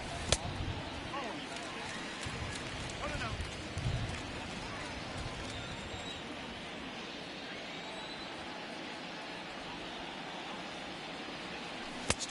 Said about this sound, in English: It's definitely raining a little harder.